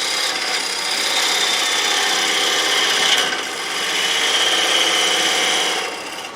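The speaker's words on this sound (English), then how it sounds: "I used a detailed spindle gouge to do that" A detail spindle gouge back-cutting a wooden bowl spinning on a lathe, a loud, continuous close scraping hiss that holds steady for several seconds and dips briefly once before easing off.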